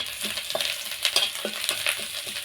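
Grated ginger sizzling with whole cumin seeds in hot oil while being stirred, a steady crackling fry with light scraping and clinking from the pan, close and unbroken.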